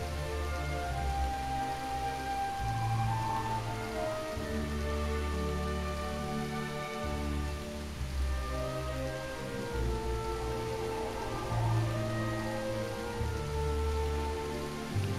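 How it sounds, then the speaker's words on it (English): Steady rainfall in the video game Dragon Quest VIII, a continuous soft patter of drops heard under sustained background music, with no talking. "The rain continued till dawn,"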